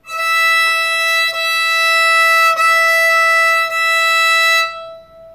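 A bowed violin holds one high open E-string note, clear and resonant, with a few subtle bow changes, then stops and rings briefly into silence.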